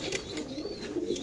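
Racer pigeons coo softly at a pigeon farm, a low continuous murmur of several birds layered with faint chirps over steady background noise.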